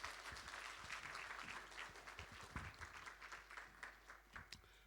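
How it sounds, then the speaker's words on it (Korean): A church congregation applauds to welcome a senior pastor to the pulpit before a Sunday sermon, in a dense, continuous wash of many hands clapping that sounds fairly distant and reverberant, with a low hum underneath. "우리 박수로 우리 목사님 같이 환영하겠습니다."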